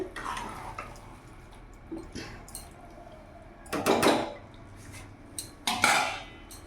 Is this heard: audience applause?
no